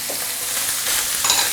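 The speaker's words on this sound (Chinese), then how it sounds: "干葱末，我们给它炒香一下。" Minced shallots, ginger, garlic, diced blanched shiitake and carrot stir-fried in a hot wok, a dense close sizzle with scraping stirs throughout and no talk.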